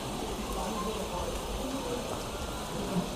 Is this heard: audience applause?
no